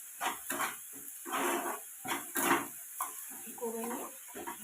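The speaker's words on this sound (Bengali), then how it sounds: "মশলাটা একটু ভাজা ভাজা করে নেবো" Spice paste for a tangra fish curry fries in a pan, heard as short, soft bursts of sizzle and spatula scraping separated by quiet gaps.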